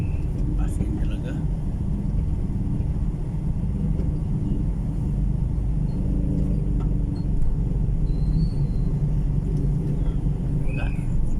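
Heavy road traffic in a town on Panay Island, Iloilo, a constant loud low rumble of passing vehicles close by, with people talking over it.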